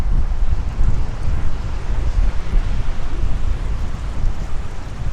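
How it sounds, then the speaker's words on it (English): Strong severe-thunderstorm wind in Brooklyn roars steadily across the microphone, a heavy, continuous low rumble with gusty surges and no voices. "these winds are really getting strong"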